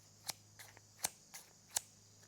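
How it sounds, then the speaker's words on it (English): Scissors snipping paper with no contact between blades, giving sharp, crisp clicks in a quick irregular series, faint and close, with softer snips between the louder ones. "Have you ever heard a pair of scissors cut paper with no contact?"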